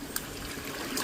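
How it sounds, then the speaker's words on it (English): Coconuts being rinsed in rice irrigation water at night, a steady close trickle and slosh of moving water with a couple of brief brighter splashes, no voices. "We're going to wash these suckers in this rice irrigation."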